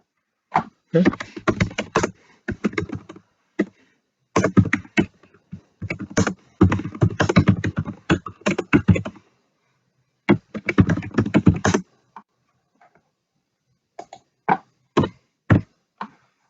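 Close-up keystrokes on a computer keyboard come in quick bursts separated by pauses, as Bengali text is typed into MS Word. The bursts end in a few isolated taps.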